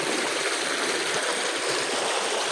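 A clear river flows steadily at a Philippine riverside where people fetch water, a continuous close rushing and trickling wash with no voices.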